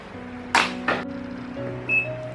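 A washing machine being powered on gives two sharp button clicks, then a short, clear electronic beep, faint against a low steady hum.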